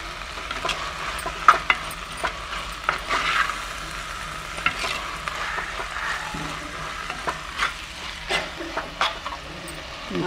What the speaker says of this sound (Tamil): தக்காளி பச்சை மிளகா எல்லாம் நல்லா வெங்காயம்லாம் நல்லா வதங்கி வந்துட்டு